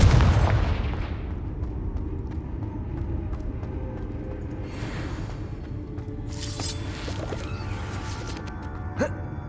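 In Hogwarts Legacy, a Confringo blasting spell bursts with a loud booming explosion at the start, followed by a lingering rumbling tail, crackling debris and a few scattered smaller impacts.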